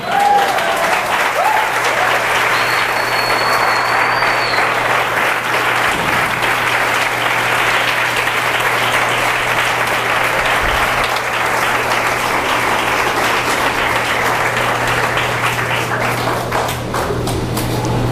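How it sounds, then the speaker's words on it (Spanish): An evangelical church congregation claps for Jesus in sustained, loud applause that lasts about eighteen seconds, full and steady throughout the room. "¿Y cuántos aplauden a Jesús el Cristo?"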